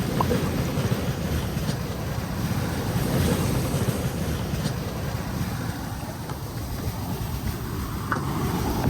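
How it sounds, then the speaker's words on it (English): Squall winds of about 25 knots buffet a monohull sailboat crossing the Atlantic in big seas, with continuous loud wind roar and rushing waves close around the hull, no talk. "The squall is throwing off a little bit of wind."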